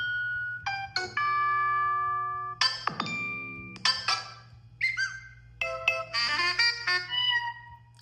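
A series of notification tones previewed one after another on a Samsung Galaxy S26 Ultra phone: short bright chimes and melodic ding-like jingles, each clear and close, separated by brief pauses over a faint steady hum.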